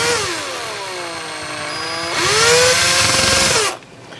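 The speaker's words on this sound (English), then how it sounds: "Going in just at an angle a little bit with my drill so it stutters and skips." Power drill driving a screw on the aluminum housing of a 1996 Mercury 40 HP SeaPro outboard, its motor whining and dipping in pitch as it stutters, surging once more, then cutting off abruptly.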